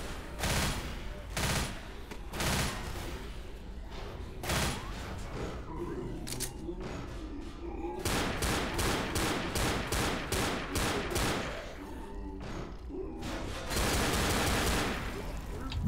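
Gunfire rattles through a Left 4 Dead zombie campaign, with single loud shots early, then dense rapid bursts from several weapons, close and sustained, with brief gaps between volleys.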